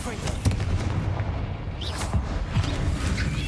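Confringo fire spell explosions in Hogwarts Legacy, a few booming blasts over rumbling combat sounds, with a voice speaking briefly.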